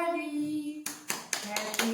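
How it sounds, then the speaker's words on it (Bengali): Several sharp hand claps ring out unevenly in a room during a family anniversary celebration at home, following a sustained tone, with a voice faintly present. "আরে হাততালি দাও"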